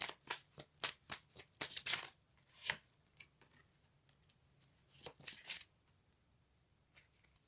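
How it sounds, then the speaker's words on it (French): Oracle cards are shuffled in quick, quiet flurries of papery riffling and slapping, close by, with a longer pause in the middle before a few more bursts. "On me dit de tirer des cartes supplémentaires."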